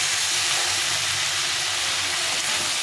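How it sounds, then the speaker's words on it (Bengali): Tomato fries in spiced masala with mustard oil while cooking a winter vegetable fish chorchori, giving a steady, close, even sizzling hiss throughout with no speech. "একটা বড়ো টমেটোটা দিয়ে একটু কষিয়ে নেবো"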